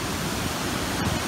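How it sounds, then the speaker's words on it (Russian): Water plunging down a waterfall in the Montanejos gorge gives a steady, full roar of rushing water close by, constant throughout with no talk over it. "получается, вода сбрасывается"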